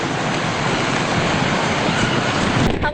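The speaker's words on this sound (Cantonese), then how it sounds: "杏花村呢邊呢，就近住岸邊啦，風勢咧可以話係非常之大啊" Strong typhoon wind roars near the shore at Hang Fa Chuen on Hong Kong Island, a loud, continuous buffeting rush with surf-like noise and no talk.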